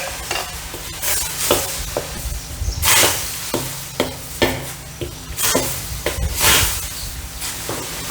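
Thai curry paste sizzling and frying in a pan while being stirred, with repeated scraping strokes and hissing bursts, close and loud, no talking.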